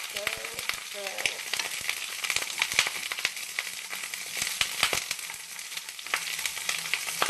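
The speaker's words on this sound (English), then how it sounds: "a bunch of asparagus, and I'm just going to toss it in the oil" Whole asparagus sizzles and crackles in hot oil as it is tossed and stirred, with a steady fry broken by quick scraping stirs and clicks, fairly close and moderate in level.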